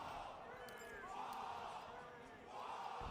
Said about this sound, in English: The green wall chant starting to ring around the arena here in Seattle.